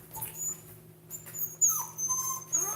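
A puppy lets out a few short, thin whimpers and whines, fairly faint and close, with quiet gaps between them and no talking.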